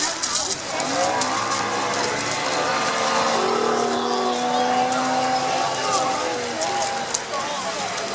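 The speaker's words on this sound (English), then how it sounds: "the dory is now unmanned, just driving round" An unmanned dory's outboard motor drones steadily as the boat circles, with a rising and falling pitch across the whole stretch, busy outdoor background noise around it.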